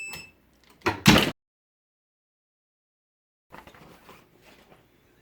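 A heat press opens after a vinyl transfer, giving a short mechanical clunk and a louder release burst near the start, then a few quieter handling sounds a couple of seconds later.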